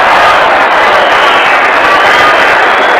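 Football stadium crowd at Green Bay, Washington versus Green Bay Packers, cheering loudly in a dense continuous roar with no break.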